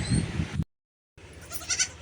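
Goats and young goat kids bleating on a farm, a loud close bleat that cuts off abruptly, then after a short silence more bleating resumes at a moderate distance.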